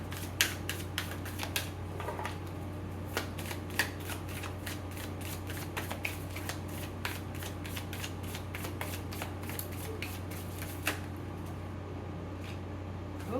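Tarot cards being shuffled by hand, a steady stream of crisp riffling snaps and flicks at close range over a low constant hum, with no talking.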